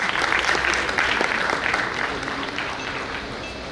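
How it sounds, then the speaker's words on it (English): Dense, sustained applause from a crowd at a regional chartered accountants' conference, strong at first and easing slightly toward the end. "give them a huge round of applause"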